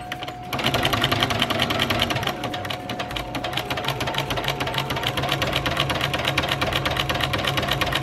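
A sewing machine whirs steadily and close up while stitching along the edge of fabric, starting just after a brief moment of quieter handling and running without pause to the end.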